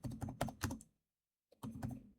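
Keys on a computer keyboard pressed in quick close bursts of clacks, a short run of typing, then a silent gap and another flurry.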